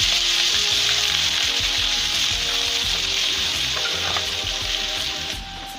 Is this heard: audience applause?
no